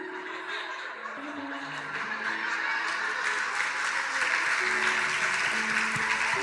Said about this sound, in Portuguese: Aplaude!